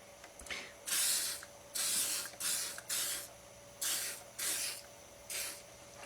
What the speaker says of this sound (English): In this case, I'm going to go ahead and use WD-40.